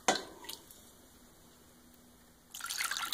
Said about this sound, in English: now I'm going to add 2 more cups of water to it.